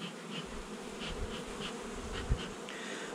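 Honey bees buzz around an open hive, a dense, steady drone of many insects close by, with individual bees flying past now and then.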